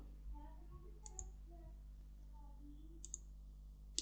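Two sharp double clicks of a computer mouse, close and fairly faint, about two seconds apart, over steady low hum while someone opens a link in a Minecraft texture pack extractor download page.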